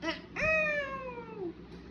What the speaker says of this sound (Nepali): म्याउ म्याउ बिरालो